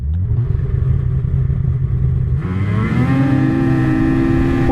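A 2026 Ski-Doo MXZ X-RS 850 Turbo R Competition Package snowmobile launching: a loud, close engine rumble that abruptly surges into a rising, rasping rev and pulls away.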